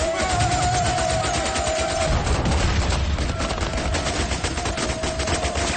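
Rapid automatic gunfire and rifle volleys in a war film as soldiers shoot while charging across a bridge toward a town, a loud continuous barrage with a booming burst partway through.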